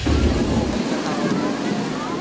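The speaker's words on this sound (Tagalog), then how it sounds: "Sa kasagsagan ng malakas na buhos ng ulan kahapon" Heavy rain downpour in Metro Manila, a dense, steady roar of falling water with low rumbling, loud and continuous throughout with no voices.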